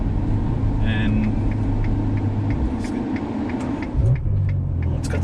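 A 2020 Ferrari 812 Superfast being driven in Sport mode, its engine a steady low rumble inside the cabin, with a brief surge near the end, while people talk over it.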